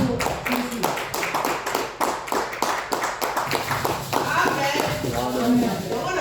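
A church congregation claps for Jesus during a service, a steady run of brisk handclaps under voices, fairly close and loud throughout.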